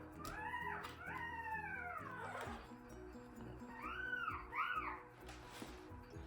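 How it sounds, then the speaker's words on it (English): A puppy howls and whines in rising and falling wavering cries, several in a row, faint and close, under low background noise. "Yeah, it's definitely a puppy."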